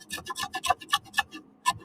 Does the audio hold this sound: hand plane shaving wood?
yes